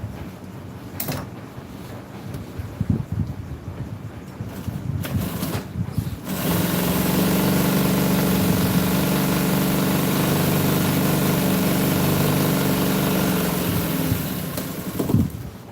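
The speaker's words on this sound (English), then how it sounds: "Always remember to oil that sewing machine." Sewing machine stitching pleated upholstery for a 1974 Ford truck seat cover, a steady loud mechanical whir running continuously for most of the stretch after a few short bursts and handling clatter.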